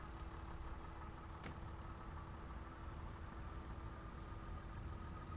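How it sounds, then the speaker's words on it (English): Class 142 diesel railcar engine in Train Simulator Classic holding a steady low rumble as revs slowly build under full power, a constant mid-pitched drone with faint knocking, no talk over it. "Obviously the revs take a while to build"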